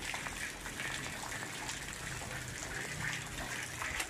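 Water pours off a rooftop garden's edge by the tubular railings in a faint, continuous gush and trickle, with no voices.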